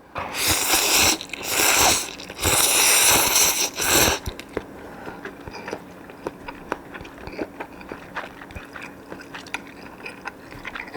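Loud, close crunchy bites recorded with a SYNCO Mic-D30 shotgun microphone, followed by softer wet chewing with small smacking clicks continuing steadily.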